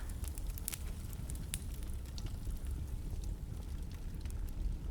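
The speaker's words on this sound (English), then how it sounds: "And listen into the sound of the crackling wood." Faint, steady crackle of a wood fire, with scattered small pops and snaps over a soft continuous rushing hiss.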